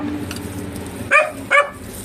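A dog gives two short, sharp barks about half a second apart, close and fairly loud, over a low background hum.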